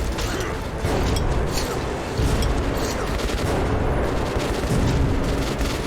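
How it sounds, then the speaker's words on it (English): Grenade explosions and gunfire in the video game Metro: Last Light Redux, a dense, continuous roar of loud blasts and rattling combat that goes on without a break, with no talking. "Maybe I'll try some grenades?"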